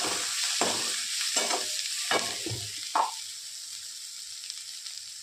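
Onion with turmeric sautéing in a pan as the base for a potato bhaji, several close stirring scrapes over a sizzle, then a quieter fry left alone for the last seconds.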